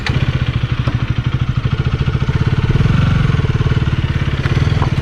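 A 2025 KTM Duke 250 Gen 3 motorcycle runs close by with a loud, steady single-cylinder thump, and a faint swell in revs partway through.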